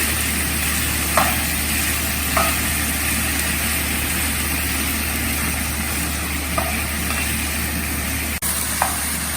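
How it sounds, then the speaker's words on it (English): Cauliflower sautés in a pan over high flame, a steady close sizzle and hiss with occasional soft stirring clicks and one sharp knock; no voices are heard. "And with that, put in the cauliflower. Saute."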